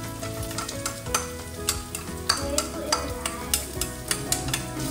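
Chopped carrot stir-fried in a pan for egg fried rice, a constant close sizzle broken by regular scraping strokes of the utensil, roughly one every half second.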